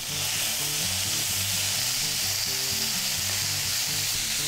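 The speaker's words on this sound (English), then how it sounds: "Teriyaki sauce is still ticking away and simmering down." Teriyaki sauce simmers and sizzles steadily in a pan with beef for a beef stir-fry, a close, continuous frying hiss with no talk.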